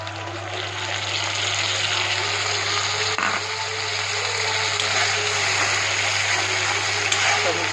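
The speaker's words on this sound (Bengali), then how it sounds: "টমেটোটা দিয়ে একটু ঢাকনাটা দিয়ে দেবো, যাতে টমেটোটা ভালো করে ফ্রাই হয়ে যায়।" Tomatoes frying in oil with onions in a pan, a steady broadband sizzle running the whole time over a low constant hum, with no voice.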